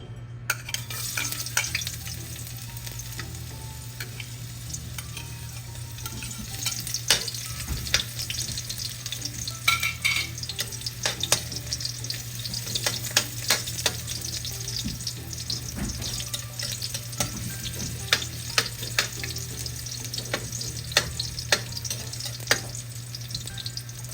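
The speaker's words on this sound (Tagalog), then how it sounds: "igigisa na po natin ang sibuyas at bawang" Onion and garlic sautéing in a pan, giving a steady sizzle punctuated by frequent sharp clicks and scrapes of a spatula, close up over a low constant hum.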